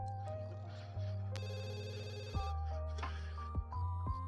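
Electronic phone ringtone from The Sims 2 plays in a steady repeating tone pattern over in-game music and ambience, moderately loud with no talking.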